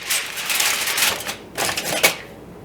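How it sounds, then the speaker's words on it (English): Aluminum foil crinkled and pressed over a roasting pan holding a maple-brined turkey, a run of close, crisp rustling and crackling bursts with no talk. "And now you'll want to cover this back up with the foil."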